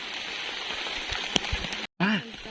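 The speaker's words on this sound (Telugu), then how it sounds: "దుబ్బు చినుకులు వస్తాప్ప వాన." Steady rain falls on a village during a heavy downpour, a dense broadband patter of drops that briefly cuts out before a voice begins talking.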